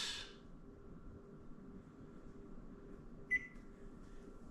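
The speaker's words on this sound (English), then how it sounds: "Going to set my timer to 40 minutes." A kitchen timer is set while sourdough bakes in a preheated oven, giving one short, clear electronic beep over a low steady appliance hum.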